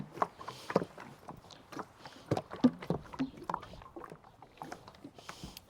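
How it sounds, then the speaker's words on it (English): A can of Minwax dark walnut wood stain shaken by hand before refinishing a sanded table, giving rhythmic knocking and sloshing rattles close up that continue steadily for several seconds, with no talking. "So I'm going to shake this can."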